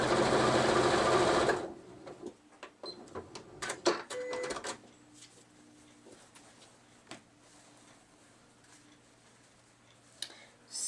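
A sewing machine stitches a quilt block in a brief, fast, loud whirring run, followed by scattered clicks and handling taps and a faint lingering hum.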